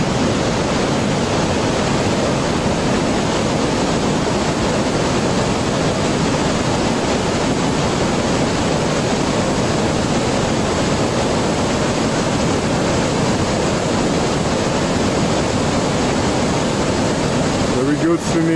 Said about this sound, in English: Let's take a look at this crossing at the base of the waterfall.